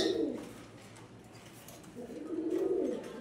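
Pigeons kept for pairing coo in low, throaty bursts, one near the start and a longer rolling coo after a pause, close by.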